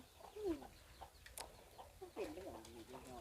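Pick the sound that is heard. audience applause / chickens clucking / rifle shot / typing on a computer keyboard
chickens clucking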